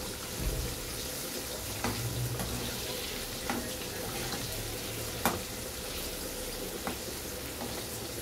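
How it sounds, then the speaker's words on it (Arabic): Sweet peppers fry in hot oil in a home kitchen, giving a steady crackling sizzle with scattered louder pops and spits, fairly close and without talk. "أهو هنحمر الفلفل حلو"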